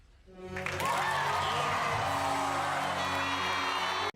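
A crowd cheering sound effect swells in quickly with applause and whoops, holds loud and dense, then cuts off abruptly.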